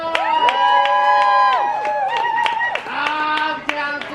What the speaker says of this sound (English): Let's both give a round of applause.